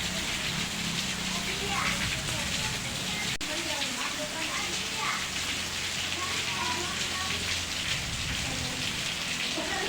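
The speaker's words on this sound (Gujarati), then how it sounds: "ઓહો હામો વરસાદ આવે ભાઈ" Heavy monsoon rain pouring onto a block surface and the ground in July, a loud, unbroken hiss of dense drops drumming close by throughout.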